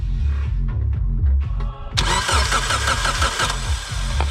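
A Mitsubishi Evo IV engine with no fuel cranks from close by. The starter churns in rhythmic pulses, then grows louder and harsher without the engine catching.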